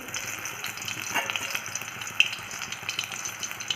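Methi pakoras made with a little jowar flour fry in hot oil, a steady crackling sizzle with soft bubbling and faint scrapes, moderately loud and close, no talking.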